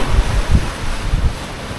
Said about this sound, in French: les vagues aussi, surtout les vagues.